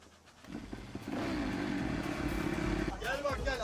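A motorcycle engine revs and rumbles nearby, rising after a quiet start and holding steady before fading, with people talking over it.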